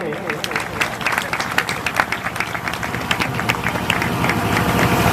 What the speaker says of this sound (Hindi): सभी लोग ताली बजाते रहेंगे।